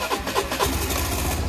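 A Suzuki Burgman Street 125 scooter, serviced after three years without proper maintenance, cranks with a short starter whir and catches into a steady, close idle that continues to the end.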